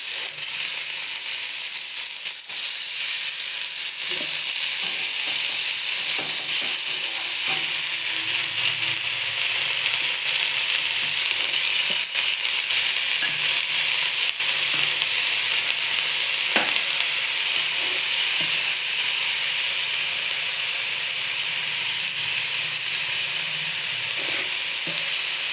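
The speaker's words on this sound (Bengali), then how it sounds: "এরপর পেঁয়াজ, কাঁচা পেঁয়াজ দিয়ে দিলাম।" Raw onions fry in a pan over a lowered gas flame with a steady, close, loud sizzle. Occasional clicks and scrapes of stirring sound under it, and no one speaks.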